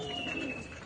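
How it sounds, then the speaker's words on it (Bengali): Adult pigeons on a rooftop loft give a soft, brief coo, heard close but faint over low background noise. "এই যে আমাদের পুরো ধাড়ি পায়রা, এই যে ধাড়ি পায়রা খাচ্ছে"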